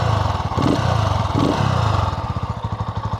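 A Sothassi 400 Classic motorcycle engine with two exhaust ports idles close by, a steady low, throaty thump with even pulsing and slight clatter, throttle rising briefly twice before settling back to idle.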